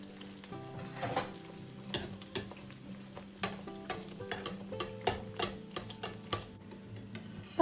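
Pieces of dough frying in hot oil for a soft breakfast bake, a continuous crackling sizzle dotted with frequent sharp pops and ticks, close and fairly quiet.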